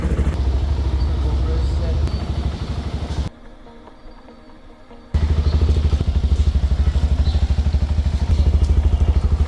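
A CFMOTO 300SR motorcycle still in its break-in period idles after a cold start with a loud, close, rapid rhythmic engine thrum. The sound cuts out briefly midway and then resumes, with talking over it.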